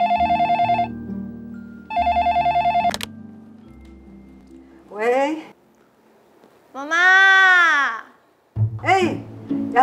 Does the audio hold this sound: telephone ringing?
yes